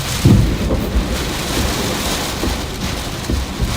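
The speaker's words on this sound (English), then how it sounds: "I don't know if you can hear those bolts crashing" Steady heavy rain with low rumbling thunder crashes, strongest near the start, in a dense outdoor storm wash from a supercell in South Dakota.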